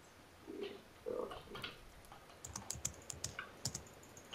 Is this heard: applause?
no